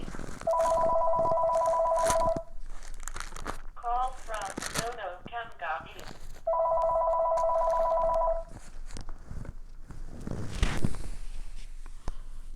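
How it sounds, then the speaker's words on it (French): A telephone rings during a church sermon, two long electronic trilling bursts a few seconds apart, fairly close, with chirpy tones and rustling between them. "Excusez-moi encore pour le téléphone"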